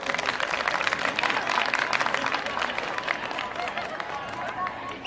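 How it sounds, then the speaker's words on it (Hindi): Dense audience applause at a Hindi comedy kavi sammelan, many hands clapping together in a steady wash that holds for about five seconds before tapering slightly. "तालियां बजाओ अपने लिए।"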